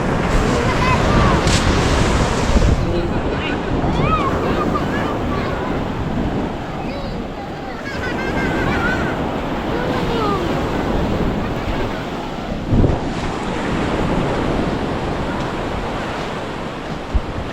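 Large ocean waves break at a river mouth in Bucana, producing a loud, continuous roar of surf mixed with heavy wind buffeting the microphone; the rush swells and eases in broad surges throughout.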